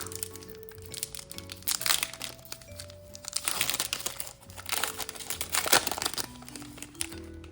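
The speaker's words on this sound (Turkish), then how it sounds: "Evet, Temporal Force'un ikinci paketi." Foil wrapping of a Pokémon Temporal Forces booster pack crinkles and crackles as it is torn open, a busy run of close, loud rustling bursts over faint background music, no talk.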